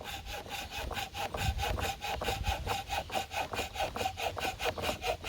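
A small hand saw cuts through wood with light pressure, giving a steady back-and-forth rasp of regular strokes, close and fairly loud, with no talking.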